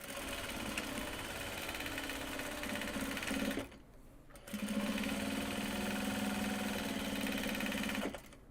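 A sewing machine stitches project bags made from Japanese fabrics, a loud, close, rapid mechanical whir that runs steadily, stops for about a second, then resumes for several more seconds.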